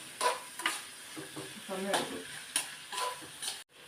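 Vegetables and onions sautéing in a pan while upma is being made, a quiet sizzle broken by several stirring scrapes, with a voice talking intermittently over the cooking.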